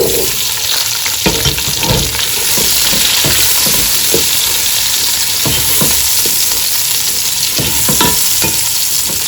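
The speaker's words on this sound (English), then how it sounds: "Cook all these ingredients together now for about 3 minutes." Chopped onion with red and yellow peppers frying loudly in a pan, a steady close sizzle broken by repeated scrapes and clatters of a stirring utensil.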